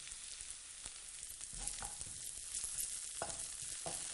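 Tofu pieces fry and brown in oil in a pan for a Thai green tofu dish, with a steady close sizzle and occasional soft stirring scrapes.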